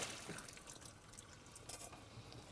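Water is poured away from a cooking pot, a faint, close trickle and splash with some drips, heard on its own.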